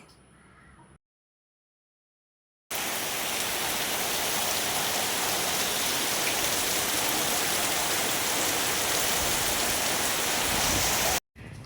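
Rain falls as a loud, even hiss of drops on surfaces, steady and close for most of the span after a short quiet gap at the start.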